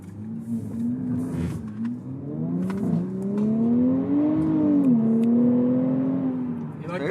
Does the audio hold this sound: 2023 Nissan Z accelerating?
yes